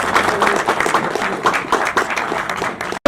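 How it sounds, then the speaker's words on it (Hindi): Audience applause at a live Pakistani music program honoring a master musician, steady dense clapping filling the space for a few seconds before cutting off abruptly near the end. "इनके लिए तालियां बजा दीजिए"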